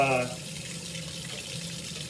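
A liquid mixture is poured through a Buchner funnel in a chemistry lab during fractional crystallization, making a soft, steady trickle after a brief voice at the start.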